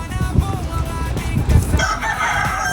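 A rooster crows loudly over clucking chickens, with bursts of scratching and pecking nearby beside a pigeon loft; busy, close farmyard sound.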